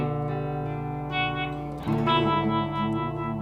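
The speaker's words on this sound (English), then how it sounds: "now we'll add a vibrato. That's on the A, and very extreme." A hexaphonic electric guitar sustains chords while an extreme vibrato effect is applied to its A string, so the tone wavers and warbles, swelling louder midway through.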